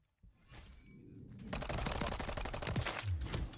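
Rapid automatic gunfire in the video game Call of Duty: Modern Warfare III, dense fast bursts of shots that grow loud and continuous after a quieter start.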